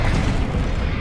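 The Confringo blasting spell goes off in the game Hogwarts Legacy as one dense, rumbling explosive burst that fills the whole moment without pause.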